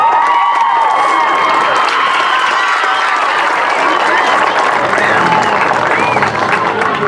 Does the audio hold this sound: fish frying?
no